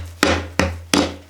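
Three sharp wooden mallet strikes drive anchors into a wall, each a crisp knock followed by a short decaying ring, evenly spaced and close by, with no voices.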